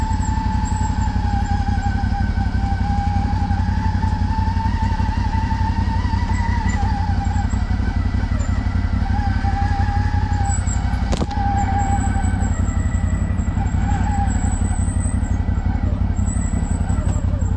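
A CFMOTO 800 XC ATV engine drones steadily and close while riding over rough ground, a constant low hum with faint higher whine throughout, no speech.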